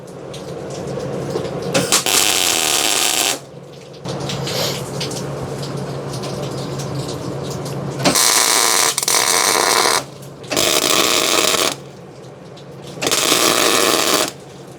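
Tack welds laid on a vehicle frame during frame boxing in rainy weather: five or six loud, harsh crackling bursts, each lasting a second or two, separated by quieter gaps with a low background hum.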